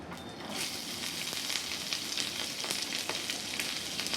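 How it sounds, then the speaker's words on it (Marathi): Mustard seeds and a little cumin in hot oil on a tava give a steady close sizzle with crackling pops scattered through it, with no voices, as tendli sabzi gets started. "तेल टाकून घेऊया, राई टाकूया, थोडंसं जिरं"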